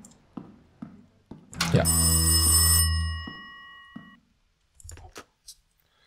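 A telephone rings in the horror video game Rise of Insanity: one loud ringing burst, preceded and followed by footsteps and faint sounds. A voice briefly speaks.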